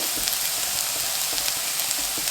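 Food sizzles and crackles steadily in a hot pan while being sautéed, with a bright, continuous hiss and small pops close by.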